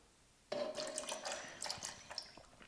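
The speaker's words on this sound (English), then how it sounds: "I'm gonna do a 1 ounce pour of the apple cider" Non-alcoholic apple cider poured into a cocktail shaker for an Apple Cider 75, a sudden close liquid stream that splashes and gurgles for about two seconds, then thins to drips, with no voices.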